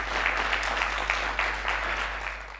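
A studio audience at a quiz show claps together, a steady wash of applause that holds evenly and tapers slightly at the end.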